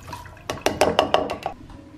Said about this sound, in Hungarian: Először le kell öblíteni hideg vízzel, aztán be lehet dobni a mikróba.